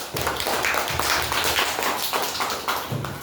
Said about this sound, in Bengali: সবাই হাততালি দাও, জোরে জোরে হাততালি দাও।